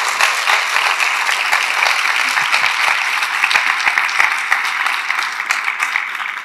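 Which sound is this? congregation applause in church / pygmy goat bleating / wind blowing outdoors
congregation applause in church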